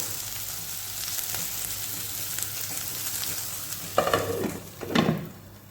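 Ivy gourd cooks covered on a low flame with a continuous, even sizzle, followed by a couple of louder stirring scrapes near the end.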